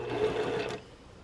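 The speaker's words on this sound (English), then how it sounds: "I'm just going to stitch down one side" A sewing machine runs a quick, steady whirring stitch along fabric strips for a quarter-inch seam on a quilt block, then stops after under a second, leaving a quiet room.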